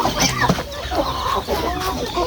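Pet chickens clucking nearby in a backyard coop, a steady run of overlapping clucks and calls with a voice faintly mixed in underneath.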